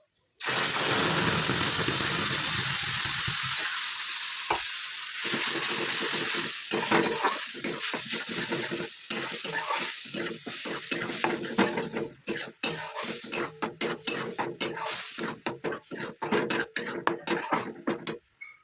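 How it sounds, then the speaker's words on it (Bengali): Spice masala frying with salt in a wok, in the oil left from frying fish and cauliflower, a loud sizzle that settles while a spatula scrapes and clinks against the pan in quick repeated strokes. "মশলাটা এবার নুন দিয়ে একটু কষিয়ে নিই"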